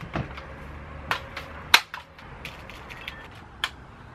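A Daisy 880 pump airgun fired several times, with and without a DonnyFL Ronin suppressor, gives sharp, close cracks spaced about a second apart, some noticeably louder than others, with quiet handling noise between them and no talking.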